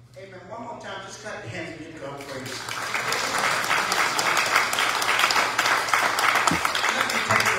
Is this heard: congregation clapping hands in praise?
yes